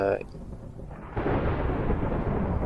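Thunder rolls through a storm in the Minecraft video game. A loud, broad rumble swells after a brief quieter stretch and keeps roaring to the end.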